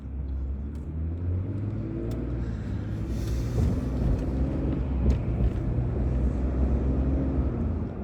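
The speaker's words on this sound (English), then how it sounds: "Probably hearing a little Ford power right there." A Ford car engine accelerates in a steady low rumble, the drone rising slightly as it pulls away and holding for several seconds, heard from inside or close by with no talk over it.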